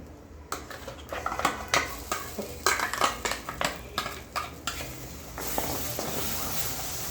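Ground masala paste is stirred in a pan while cooking a paneer cashew curry, with a spoon repeatedly scraping and clinking against the metal in an irregular rhythm, close and fairly loud, before a steady sizzle takes over.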